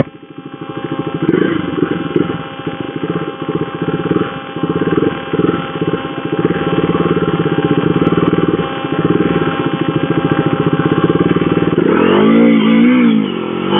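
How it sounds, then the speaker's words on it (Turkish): A KTM Duke 250 motorcycle engine revs and accelerates hard from a standstill on an open road, a loud, steady single-cylinder drone with rising pitch sweeps through gear changes, close and alone without talk. "Şimdi ben sizi motorun sesiyle baş başa bırakayım"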